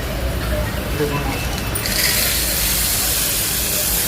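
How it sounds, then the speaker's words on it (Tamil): At a handicraft fair, a rain stick is tipped, and a soft rushing hiss like water pouring down a waterfall swells in halfway through and keeps streaming. A voice talks over the start. "என்னது சார் இது ரெயின் ஸ்டிக்"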